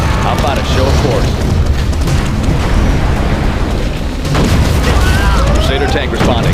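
Cruise missile strikes in C&C Generals, deep rumbling booms and explosions rolling loudly and continuously, with game voice lines and talk layered over the blasts.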